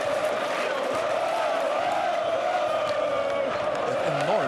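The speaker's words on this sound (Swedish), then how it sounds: "Ja, publiken tände till." Stadium crowd at a 2008 Allsvenskan football match between Djurgårdens IF and Malmö FF rises in a sustained, dense roar of cheering, loud and continuous throughout, with a commentator's voice partly under it.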